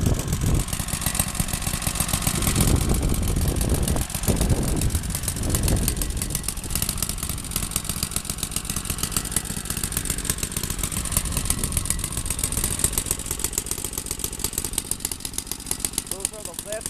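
A 1936 Loke lawn mower engine runs steadily, its even mid-pitched chug carrying throughout beneath occasional talk.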